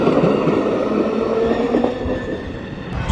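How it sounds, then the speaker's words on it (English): A train rolls along the railroad in Irondale, Alabama, a steady loud rumble of wagons with faint wheel squeal, continuous and near throughout. "Watching and listening to trains, just like being out in nature"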